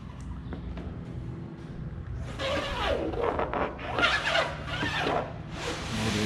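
Tape pulled and pressed along the fabric-covered leading edge of a 1960 Piper Pacer left wing, a series of rasping, zipper-like strips starting partway through, close and moderately loud in a quiet workshop.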